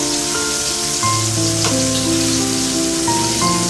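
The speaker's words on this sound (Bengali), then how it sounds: "বোথ এন্ড কিন্তু প্রপারলি ফ্রাই হওয়া চাই" Homemade pizza ingredients fry in a pan with a steady, loud sizzle that fills the whole stretch. Soft tonal background music plays underneath it.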